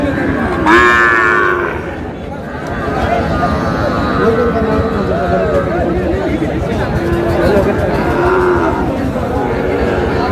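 Sahiwal cattle mooing loudly several times amid a busy cattle market crowd, with people chattering and talking nearby.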